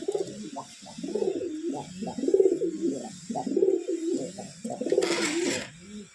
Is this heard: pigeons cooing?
yes